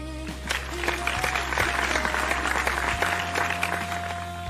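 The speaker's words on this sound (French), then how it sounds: "Je vais vous demander aujourd'hui d'applaudir cette merveilleuse femme, aussi intelligente que pertinente." Audience applause for a woman being honoured on stage, a dense, sustained clapping that fills the room evenly from start to finish, with a low steady hum underneath.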